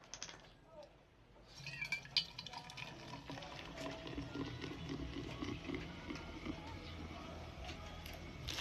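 Robust is poured into a bottle of Sprite: a soft, close liquid trickle and fizz with small clinks and handling noises, running quietly for several seconds after a brief pause.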